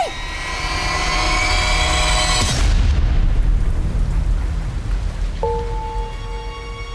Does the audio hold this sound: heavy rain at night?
yes